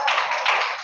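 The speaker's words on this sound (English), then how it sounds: "Clap for them, guys." A classroom of students bursts into steady applause for classmates, a dense, continuous patter of many hands clapping at close range, swelling again near the end.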